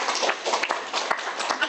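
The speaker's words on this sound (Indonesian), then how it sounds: "Tepuk tangan dulu dong." Hands clapping at a casual Indonesian coffee-chat talk show, a quick burst of applause from a small group, dense and steady for under two seconds.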